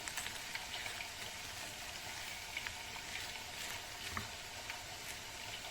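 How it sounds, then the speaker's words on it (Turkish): Rice sizzling as it toasts in oil in a pan while cooking maqluba, a soft, steady frying crackle with scattered faint pops, quiet and close with no talk. "Birazcık yağ ekleyerek pirincimizi kavuralım."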